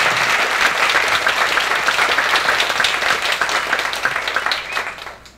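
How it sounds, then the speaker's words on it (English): Audience at a talk on microdosing psychedelics giving a big round of applause, dense steady clapping that gradually tapers off toward the end. "if you could all give Ashley a big round of applause for all of her work"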